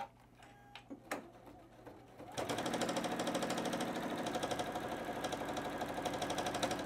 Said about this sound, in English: we're gonna stitch across there like that, on the top and what I'm calling the bottom